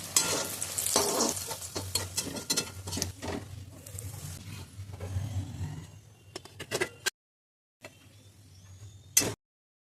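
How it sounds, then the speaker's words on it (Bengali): A Mughlai paratha fries in hot oil with a dense, crackling sizzle and spatula scrapes, close and lively for several seconds before abruptly cutting to near silence with a brief final burst. "এইভাবে আমি আর একটা পরোটা ছেড়ে দিলাম তেলে।"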